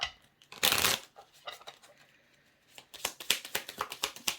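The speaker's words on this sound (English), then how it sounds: "That was too many. Shuffle again." Tarot cards are shuffled in quick riffling bursts, a short flurry then a longer run of crisp flicks, close and fairly quiet.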